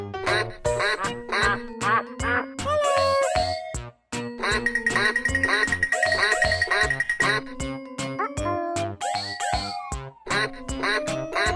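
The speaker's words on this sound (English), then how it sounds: "Duck." Cartoonish duck quacks in an animal guessing game, a rapid run of loud nasal honks spread over several seconds, with a bright sustained ringing tone in the middle.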